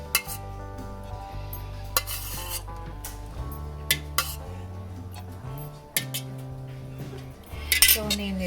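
Jackfruit pieces being mixed with curd, lemon juice and spices in a bowl, with a soft squelching rub and sharp clinks of a spoon against the dish over a low steady hum.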